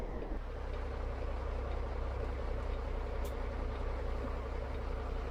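A truck engine rumbles steadily in Euro Truck Simulator, a constant low drone with a gritty exhaust texture and one brief sharp click partway through, with no talking over it.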